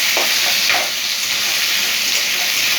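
Onions hiss and sizzle steadily in a hot pan for vegetable chowmein, a loud continuous frying crackle with a few brief stir scrapes and no talk.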